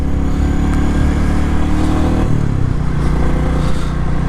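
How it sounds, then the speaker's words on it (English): A Royal Enfield Classic 350 motorcycle engine accelerates hard on a road ride, a loud, steady low thump with rising pitch and a brief shift midway, close and continuous with wind rush. "it's such a refined engine"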